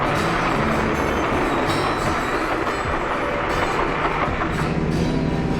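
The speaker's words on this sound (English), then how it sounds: "A train is coming." A 1946 train rumbles past close by on a railroad above a highway underpass between New York and Pittsburgh, with steady loud clattering and rolling wheel noise throughout, no voices.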